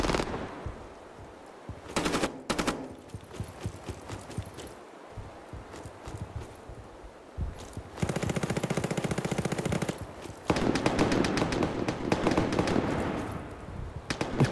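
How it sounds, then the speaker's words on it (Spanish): Automatic gunfire in the Roblox shooter DeadLine, with a short burst early and then long, loud sustained rattling volleys in the second half over game ambience. "Escuchen el sonido de las armas, es hermoso, es hermoso."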